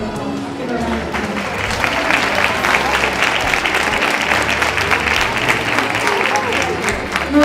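An audience at an aesthetics clinic's evening event claps steadily for a woman on stage, a dense, sustained round of applause with crowd noise and a few voices mixed in.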